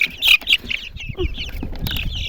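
Young chicks outdoors in the sun in a village yard give a few high, sharp peeps and soft clucks close by. The calls are brief and scattered over a low background rustle.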